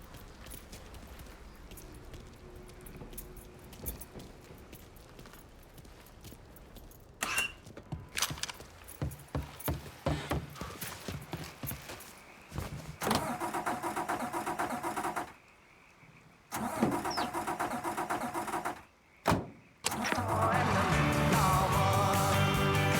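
Keys jangle, then a car engine starts in the Mafia 3 video game: scattered clicks and rustles give way to a cranking engine that settles into a steady loud idle with brief dropouts.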